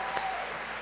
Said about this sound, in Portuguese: Vamos aplaudir a Deus pela vida dos pastores.